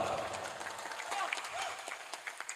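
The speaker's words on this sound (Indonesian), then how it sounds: "Tepuk tangan buat bapak-bapak." Audience of men applauds at a Maulid Nabi celebration in a housing estate, clapping faint and scattered under steady crowd murmur and talk.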